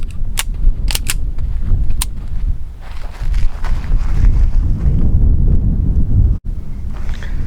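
A Springfield Prodigy pistol fires a few sharp cracks in quick succession at a distance, followed by steady wind rumble buffeting the microphone, with no talk.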